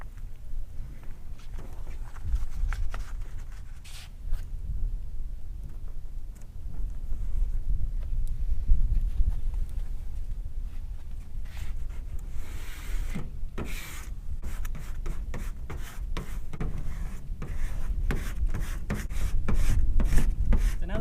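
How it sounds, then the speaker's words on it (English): A squeegee presses a vinyl decal of letters and numbers down while the backing paper is peeled away, giving intermittent rubbing scrapes and sharp crackling tears that come in uneven bursts, close-up over a faint low hum. "I'm going to use a squeegee and pull the backing paper off, working one letter or number at a time"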